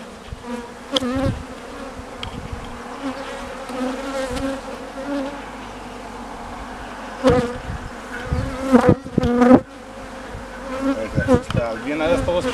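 Honey bees buzz loudly at an open hive on a Romanian apiary farm, a dense close drone with louder swells as bees pass near, and the queen bee is among them.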